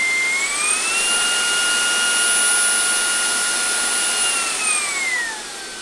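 A vacuum cleaner with a nozzle attachment whines loudly and steadily nearby, its pitch rising as it spins up and dropping as it winds down at the end.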